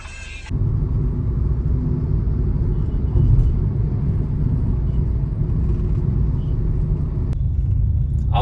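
A car running on petrol drives along a road, its engine and tyres making a steady low rumble throughout, with a brief sharp noise at the start and another near the end.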